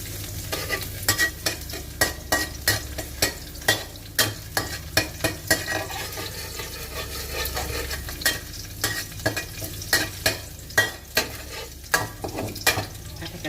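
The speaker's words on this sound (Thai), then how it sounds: "ใส่กระเทียมผัดกล้วยเทียงสิผัดแบบนี้" Garlic being stir-fried in a pan in a rustic home kitchen, a steady sizzle broken by repeated sharp scrapes and clacks of a spatula in a loose rhythm, close and alone with no voices.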